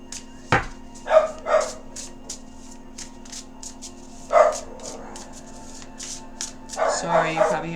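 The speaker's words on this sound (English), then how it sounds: "you probably hear the dogs barking" Dogs bark a few times in short bursts, some in quick pairs, at moderate distance, while a person talks nearby.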